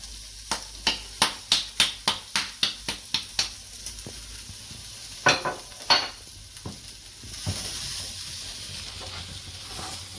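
Flour is stirred and cooked in a pot for seafood chowder, giving a quick run of regular sharp scraping strokes, then a few slower scrapes, followed by a building sizzle of frying close up.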